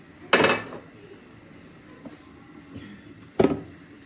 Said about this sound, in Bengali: এখন আমি এটা দিয়ে একটু ঢাকা দিয়ে দিব, তাহলে এটা কাভার করবে।